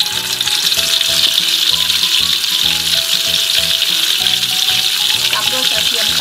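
Butter melting in a pan as the first step of pork fried rice, a loud, even, continuous sizzle hiss with faint tonal background sound underneath.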